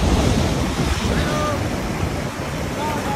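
Ocean surf crashes and churns at Tanah Lot temple on the Bali coast, loud and continuous at close range, with gusty wind buffeting the microphone throughout.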